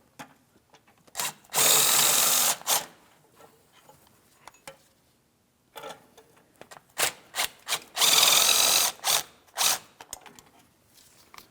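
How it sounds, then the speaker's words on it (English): A ratchet with a 13mm thin wall socket works a starter mounting bolt loose under a 2007-2014 GMC Sierra 2500 HD with a 6.0L V8, two bursts of close rasping clicks separated by scattered tool clinks and quiet. "To remove these bolts, you're going to find that you want to have a thin wall socket."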